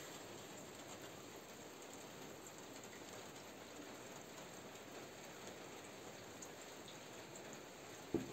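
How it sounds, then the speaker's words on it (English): Steady rain on a rainy morning along a long-distance hiking trail in Croatia, an even soft hiss of falling drops with one brief knock near the end. "Rainy morning."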